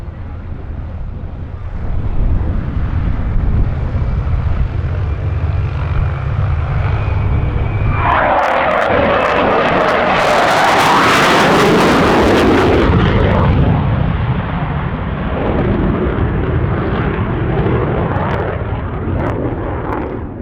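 An F/A-18 Hornet fighter jet passes overhead, its roar swelling to a loud, broad rush at the closest point before fading back into a steady distant rumble, with some wind noise on the microphone.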